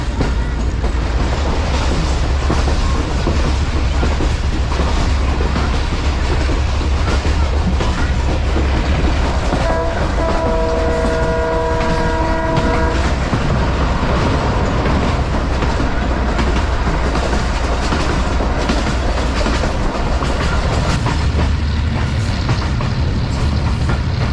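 An overloaded Mohenjo-Daro passenger train's locomotive roars loudly and continuously with rumbling wheels and rail clatter, while a sustained horn blast rings out over it midway through.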